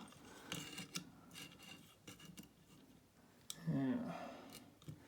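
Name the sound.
file sharpening grass cutting shears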